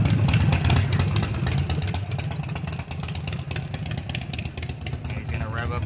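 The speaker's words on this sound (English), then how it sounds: "As soon as the motorcycle goes away, I'll kind of explain what it is." A motorcycle engine idles nearby with a steady, clattering mid-pitched rumble that persists throughout in a loud outdoor street setting, with faint background noise over it.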